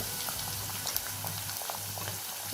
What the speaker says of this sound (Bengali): একদম চুলাটাকে লো হিটে রেখে আস্তে আস্তে ভেজে নেব